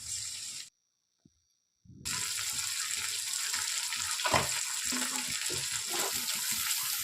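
Spice paste of turmeric, chilli paste, coriander and cumin paste sizzling in a pan for Bengali potol dorma, a soft steady frying hiss broken by a brief silent gap, faint and close with small stirring bumps.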